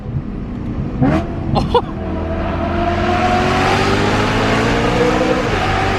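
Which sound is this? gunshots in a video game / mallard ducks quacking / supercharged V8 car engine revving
supercharged V8 car engine revving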